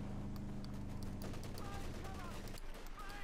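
Video game machine gun fire from a .50 caliber weapon on a support vehicle in Company of Heroes 2, heard as rapid repeated bursts of shots over battle noise, with a commentator talking throughout.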